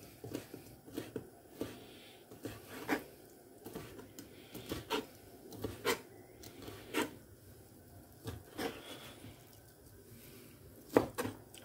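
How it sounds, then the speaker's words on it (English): A knife dices food on a cutting board for creamy tomato chicken pasta, tapping in a steady, close series of sharp knocks spread evenly with brief pauses, with no talking over them. "just gonna go ahead and start dicing this"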